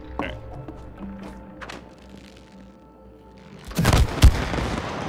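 Gunfire in the co-op video game It Takes Two, a loud burst of shots and booms near the end after a quieter stretch of game sounds.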